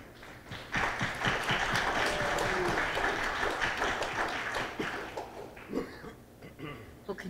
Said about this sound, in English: can you once again give a round of applause to my colleagues